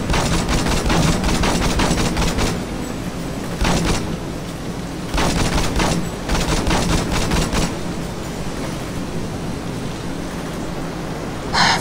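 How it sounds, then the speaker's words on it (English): Bazooka shots and explosions in Saints Row 2, a loud, constant wash of blasts and rapid gunfire with several sharp bursts standing out, close and unrelenting. "Five bazooka shots, like."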